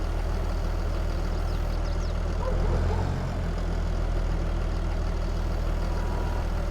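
Tractor engine in the farming game Schwaadeheim, a steady low rumbling idle that stays loud and even throughout with a slight swell midway, no talking.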